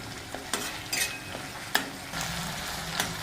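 Tomato and curry leaves crackling in hot oil while frying for a dry drumstick curry, a close sizzle broken by sharp pops and scraping stirs.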